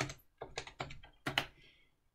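A password being typed on a computer keyboard: a handful of quick, close key clicks in a short uneven run, quiet and alone.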